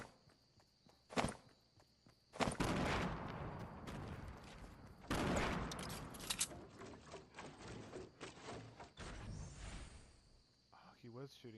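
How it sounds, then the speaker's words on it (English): Gunfire from a Fortnite match comes in bursts of sharp shots, some loud and close, others more distant, mixed with footsteps and game ambience. "he was shooting at somebody"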